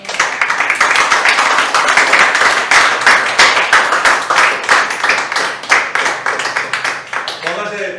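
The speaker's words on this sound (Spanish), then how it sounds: "Den un aplauso al Señor, hermano." A church congregation claps loudly and continuously for the Lord, a dense, rapid wash of hand claps that carries on for several seconds before tapering off, with voices mixed in.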